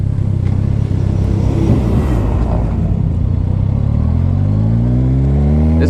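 A 2010 Kawasaki Ninja ZX-14R accelerates hard, engine climbing steadily in pitch over wind rumble, loud and close from the rider's position, with no talking.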